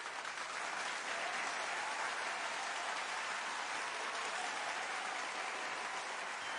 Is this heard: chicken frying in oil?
no